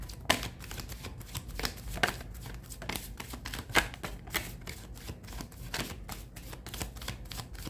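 A deck of tarot cards being shuffled by hand, with a steady run of quick, soft riffling bursts close by, fairly quiet and with no talking.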